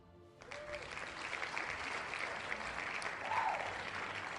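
A game-show style applause and cheering sound effect plays at a steady, moderate level for several seconds during a livestream, with a faint whoop near the end.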